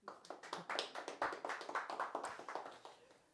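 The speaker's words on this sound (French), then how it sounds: "Merci d'être venu, vous pouvez applaudir." A small audience at a human library event applauds, a brisk patter of hand claps that swells and then thins out toward the end, fairly close and moderately quiet.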